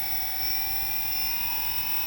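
Drone motors spinning steadily after startup, a sustained high-pitched whine with strong tonal harmonics at constant speed, loud and close, with no voices.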